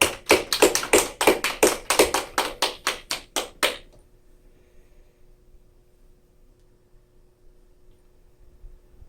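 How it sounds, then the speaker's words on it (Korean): A church congregation clapping to celebrate a member's birthday, a run of about fifteen sharp, fairly loud rhythmic claps that stop abruptly after about four seconds, leaving quiet room tone. "박수하면서 축하하시죠."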